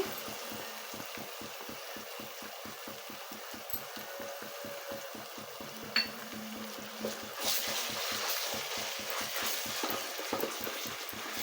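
Ginger-garlic paste and masala fry in a pan for a chicken curry, with steady rhythmic scraping strokes from stirring over a faint, soft sizzle and no talking.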